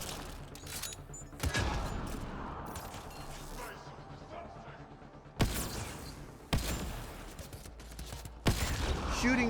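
Gunfire aimed at an orb in Mass Effect Andromeda, several sharp bursts of shots cutting through a busy game soundscape, with voices talking over parts of it.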